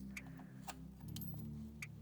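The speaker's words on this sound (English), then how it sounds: "These 2 keys were zip tied to the handlebars." Two small keys for the battery lock on a KBO Breeze step-through cruiser eBike jangle softly, with a few faint metallic clinks scattered over a low background hum, no speech.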